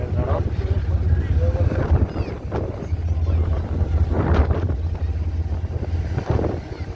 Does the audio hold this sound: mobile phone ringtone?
no